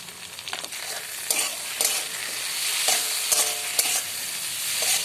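Fried potatoes stirred in a pan with chili paste, salt and turmeric: a loud close sizzle with repeated sharp spatula scrapes and knocks against the pan, no voices.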